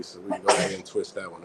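A single sharp sneeze bursts out in the middle of casual conversation, close and loud, with talking continuing before and after it.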